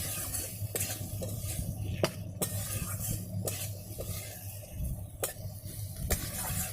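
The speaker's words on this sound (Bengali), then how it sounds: "তো এবারে এটাকে আমি মশলার সাথে ভালো করে মিশিয়ে নেব।" Fried okra and potato pieces being stirred into spices in a pan, giving a steady run of scraping, clinking spatula strokes over a continuous low sizzle, with sharp metallic knocks every second or so.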